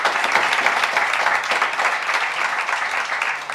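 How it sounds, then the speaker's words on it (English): Audience at a climate action week event applauds panellists after a panel session, a dense, even wash of many hands clapping that holds steady throughout. "Let's give them a round of applause."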